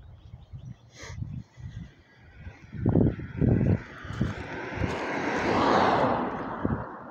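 A car drives past outdoors at night, its engine and tyre noise swelling to a broad whooshing rumble and then fading, heard fairly close after a few seconds of low, choppy background sound.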